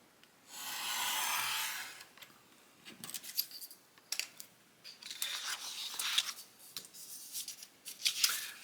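Scissors trim foam board for tabletop skirmish terrain walls, a sustained hiss of cutting followed by a series of close, irregular snips and crisp clicks at low volume.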